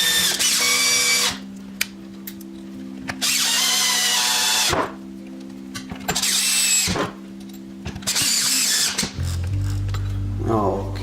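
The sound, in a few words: power drill driving fine thread screws into tiller cover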